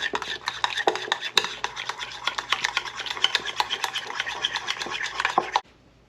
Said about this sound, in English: I'm going to give this a thorough mix.